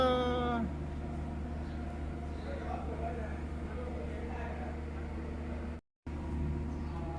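A young kitten lets out one short, clear meow right at the start, then falls quiet over a steady low hum and faint room noise.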